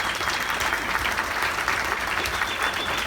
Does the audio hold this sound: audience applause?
yes